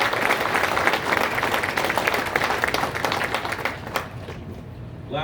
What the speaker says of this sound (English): I would appreciate if the audience could join me in a round of applause